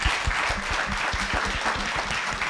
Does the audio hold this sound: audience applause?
yes